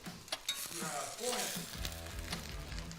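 Croissant eggy bread, custard-soaked croissants, frying in a hot pan, giving a steady sizzle with a low rumble building in the second half and a few brief clunks early on.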